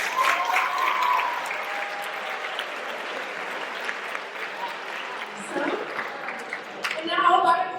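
Audience applause at a college hypnosis show, a broad wash of clapping that fades to a lighter patter and then swells again near the end, with a voice speaking briefly over it.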